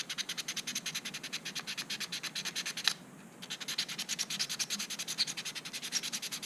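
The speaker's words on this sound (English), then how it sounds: "Is not a bad idea to scuff the top with plastic." An abrasive scuffs the plastic body top of a Team Associated SC28 Tiny Coupe RC car in quick rhythmic back-and-forth strokes, close and even, with one brief pause midway before the scratching resumes.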